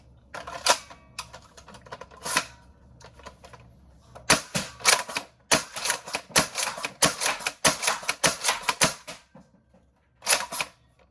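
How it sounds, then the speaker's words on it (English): Nerf Excalibur blaster firing full-length foam darts, sharp snapping shots in scattered bursts and quick runs, close and fairly loud with short pauses between volleys. "Let's put in some full-length darts and do some shooting."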